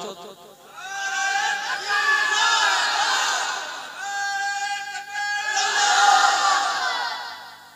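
A crowd at a Bengali Islamic religious gathering in Naihati shouting takbir, two loud surging waves of many voices calling out together, with a short dip between them.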